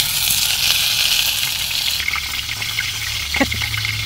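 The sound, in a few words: fish frying in hot oil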